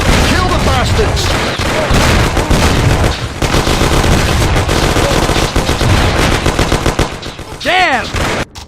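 Machine gun fire rattles through a shootout in the video game Mafia Definitive Edition, with loud, close, dense rapid bursts running almost nonstop and a shouted voice breaking in near the end.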